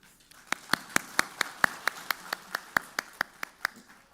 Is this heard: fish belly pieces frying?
no